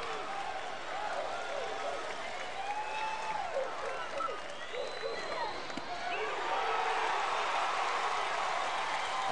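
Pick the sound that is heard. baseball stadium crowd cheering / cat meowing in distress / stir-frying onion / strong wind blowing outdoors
baseball stadium crowd cheering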